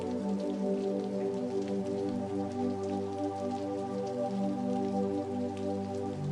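Slow, steady rain falls continuously under soft, sustained ambient music tones, with an even hiss and no pauses throughout.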